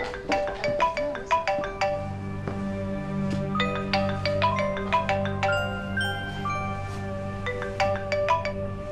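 A phone ringtone plays alone in a quiet indoor setting, a bright chiming melody repeating in quick rhythmic phrases over a sustained low backing tone for several seconds.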